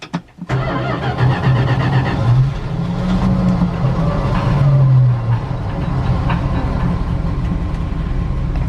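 An old carbureted truck engine cranks and catches in -35C cold with no gas pedal touched, then settles into a steady, loud idle close by, with a brief rough surge early on and no talking.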